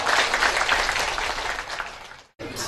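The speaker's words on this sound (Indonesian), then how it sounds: "Tepuk tangan untuk kita semua." An audience applauds at a subdistrict assessment ceremony in Marancar, South Tapanuli, a loud burst of clapping that gradually thins before cutting off abruptly, then a brief return of sound.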